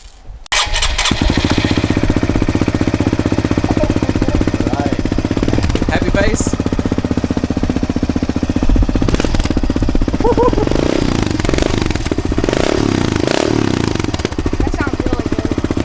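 Honda CRF125F motorcycle fitted with an FMF exhaust cold-starting, then idling and revving with a loud, rapid, close-up putter that holds for the whole clip, with people talking briefly over it.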